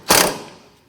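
A single quick burst of ratchet clicks comes from a 10mm socket tightening a bolt on a Jeep Patriot's camshaft position sensor bracket, close and sharp, then fading.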